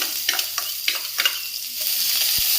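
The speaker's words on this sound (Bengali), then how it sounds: "পেঁয়াজ কুচি দিয়ে দিলাম।" Chopped onions fry in a little hot oil in a wok, giving a close, steady sizzle broken by several quick scraping stirs, with no talking.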